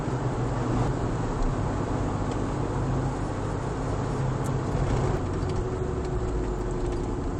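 A BMW 318ti E36 pulls out of pit road onto the VIR racetrack, with a loud, steady engine drone and road and wind roar filling the cabin throughout, no talking.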